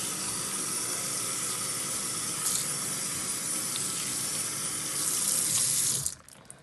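Tap water pours steadily into a sink as hands are rinsed, a continuous close hiss and splash that swells slightly near the end before the flow cuts off abruptly.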